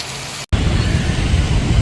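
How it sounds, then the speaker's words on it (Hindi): Steady heavy rain falls during a thunderstorm in Telangana, a dense continuous wash of noise briefly cut by a short silent gap before resuming just as loud. "गरज चमक के साथ बारिश हो गई"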